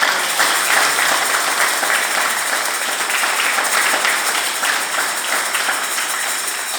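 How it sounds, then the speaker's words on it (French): Applause from a church congregation during an Easter vigil Mass, a dense, steady wash of many hands clapping that holds evenly for about seven seconds with no voices on top. "Applaudissons pour les ressuscités."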